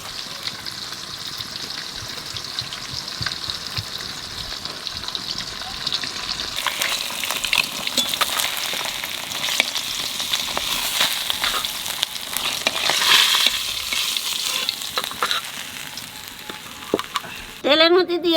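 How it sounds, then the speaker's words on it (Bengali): Cumin, bay leaf, cloves, cinnamon and cardamom fry in hot oil with a steady hissing sizzle that swells and crackles more intensely partway through, heard close with no talking. "তেলের মধ্যে দিয়ে দেবো জিরে আর তেজপাতা, লবঙ্গ, দারচিনি, এলাচ"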